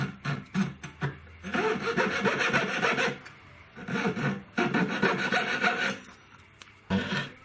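A gold diamond ring setting is cut by hand, its sides taken down at a 45-degree angle, giving close, loud bursts of rapid rasping strokes in three main runs with short pauses between.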